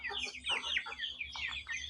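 Chickens in a pen cluck and chatter in short, close bursts, several birds overlapping in a busy rhythm with a low steady hum underneath.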